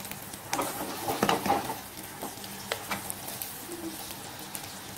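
Bitter gourds (karela) frying in oil over medium heat in a home kitchen give off a steady sizzle, broken by bursts of stirring and the clatter of a utensil against the pan.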